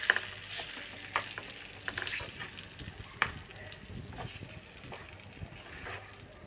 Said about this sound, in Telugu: ఇంకా అయిపోయిన పోపు పెట్టిన పచ్చడిని పోపులో వేసేసుకుని కలిపేసుకుంటాం